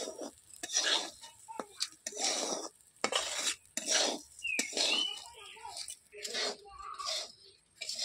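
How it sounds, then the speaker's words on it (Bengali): Marinated rice for basanti polau is fried and stirred in a pan. Repeated short spatula scrapes and clinks come in an uneven rhythm, fairly quiet and close. "এবার কয়েক মিনিটের জন্য আমি চালটা একটু ভেজে নেবো।"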